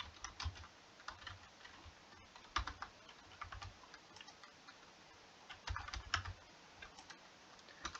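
Typing on a computer keyboard while entering commands in hydrology software, heard as soft, close key clicks in irregular bursts throughout, fairly quiet with no talking.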